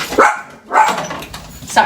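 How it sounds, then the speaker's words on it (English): A dog barks indoors during a casual group conversation, with two or three sharp, loud bursts spaced across under two seconds, partly overlapping the talk. "Sorry, the dog."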